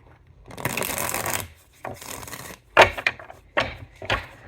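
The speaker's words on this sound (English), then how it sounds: "Let's keep shuffling." Tarot cards riffled and shuffled in a few separate bursts, papery flutters and snaps close up, with short pauses between.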